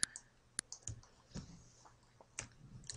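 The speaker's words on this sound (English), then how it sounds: "So just keep clicking." Quiet, sharp mouse clicks sound at irregular intervals while a hand-drawn avatar is made in GIMP, with several isolated taps and faint desk noise between them and no talking.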